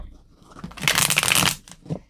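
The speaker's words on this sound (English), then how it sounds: "as I shuffle the cards real quick" A deck of playing cards is shuffled close by in one quick, crisp riffle that builds into a fluttering burst and then ends with a short tap. No one speaks.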